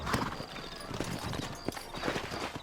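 Horse hooves clip-clop in a steady uneven rhythm in Red Dead Redemption, close and moderately loud, with voices talking over the hoofbeats.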